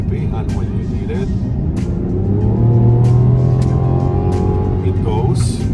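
A 2024 Mazda CX-90 SUV engine pulls under acceleration, heard from inside the cabin as a steady, rising drone that climbs in pitch through the middle of the clip, with a few faint clicks on top.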